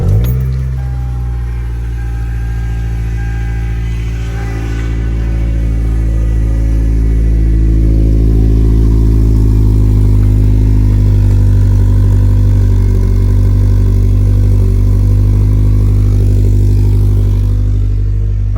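A 2006 Toyota Camry XV30 engine fires up from cold with a brief starter whirr, then holds a loud, steady, droning idle close by for the rest of the stretch.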